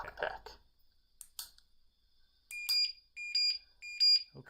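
A lock alarm device gives a warning after being tapped with a lockpick handle: a few soft taps followed by a series of three or four sharp, high electronic chirps, fairly close and clear.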